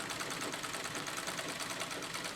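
A sewing machine quilts white denim with chartreuse thread, its needle hammering in a fast, even, continuous rhythm at close range with no voices.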